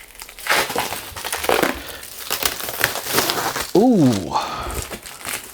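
Packaging around a pair of Presonus Eris E3.5 monitors crinkles and crunches close up in bursts of rustling plastic and cardboard, while a voice briefly exclaims partway through.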